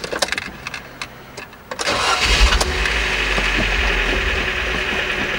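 A car's cold engine after an oil change: a few clicks and a short crank, then the motor catches and settles into a loud, steady idle with a faint metallic ringing.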